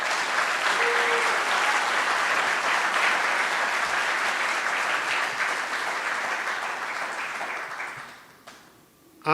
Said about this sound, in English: Let's give one more round of applause for Megan, Latrina, and Kat.